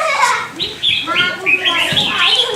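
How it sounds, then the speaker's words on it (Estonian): Caged songbirds lined up at a weekend bird-singing contest, several birds chirping and trilling in quick bursts close by, with voices and chatter mixed among the song. "Et kõik need linnud puurides, igal mehel on oma lind või isegi mitu."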